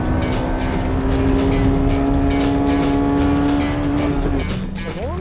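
Honda Civic Type R engine on a race track, revving hard with a sustained high whine that holds steady, then drops away as the driver shifts near the end, loud and close.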